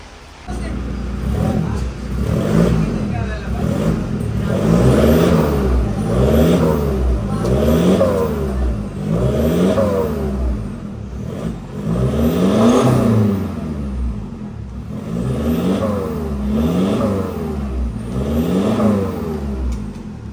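A Toyota Fortuner with a full aftermarket exhaust revs repeatedly up close, each rising and falling engine sweep coming in a steady series of loud vroom cycles with short pauses between them.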